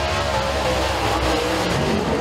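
A Super Late Model race car accelerating onto the green flag at Eriez Speedway dirt oval during time trials, its engine a steady loud roar filling the whole clip with no break.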